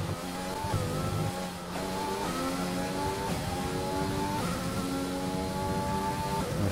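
A Formula One car in the F1 2020 game pulls out onto the Canadian circuit during practice, its engine whining steadily with rising harmonic sweeps through gear changes, loud and continuous with no talk.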